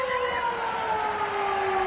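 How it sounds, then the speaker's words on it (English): Half-time siren at a 1991 Winfield Cup rugby league match at Penrith Stadium, Penrith Panthers against Western Suburbs Magpies, a loud sustained steady wail over distant crowd noise. "There's the siren."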